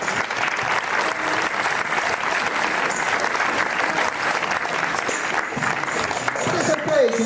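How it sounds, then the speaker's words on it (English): Steady, dense audience applause at a town band's summer concert on the Lyme Regis seafront, outdoors, sustained and fairly loud for several seconds with a brief voice near the end. "I think another round of applause from me"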